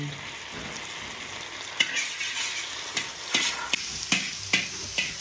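Sliced onion and chopped tomatoes sizzle in a pan for chicken fried rice, a steady hiss broken by regular sharp scrapes and knocks of a spatula stirring, growing more rhythmic toward the end.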